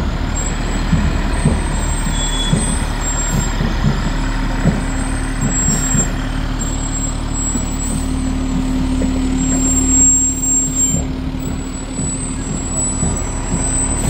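Senate Hook and Ladder fire truck Ladder 41 rolls by in a town fire department parade, a steady, loud diesel engine rumble with a constant low hum and no talk over it.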